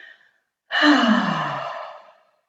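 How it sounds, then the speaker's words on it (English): One long voiced "ha" breath released while lowering the hands in a gentle heart-focused movement practice, close and fairly loud, tapering off over more than a second after a brief bit of speech at the start. "you almost let that ha sound fall out of your mouth"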